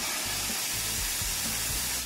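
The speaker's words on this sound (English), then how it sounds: "When you squeeze this steam trigger" A steady, loud hiss of steam spraying from a Polti Vaporetto Lecoaspira steam cleaner nozzle, continuous and close, with low sputtering pulses underneath.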